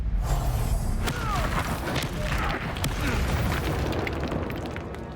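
A Confringo blast spell exploding in a Harry Potter game, with a loud burst and shattering debris at the start and crackling, rumbling fallout trailing off over several seconds.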